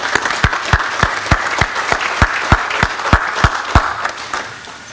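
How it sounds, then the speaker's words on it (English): Applause at a national gala dinner, a crowd clapping steadily with one nearby pair of hands striking loud, evenly spaced claps over the general wash before it fades. "So please give yourselves a round of applause."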